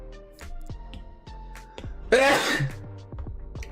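One sharp, loud human sneeze bursts out midway, set among scattered light clicks and soft tapping, with quiet surroundings before and after.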